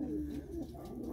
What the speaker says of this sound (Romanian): De data aceasta avem patru porumbei dintr-o altă rasă.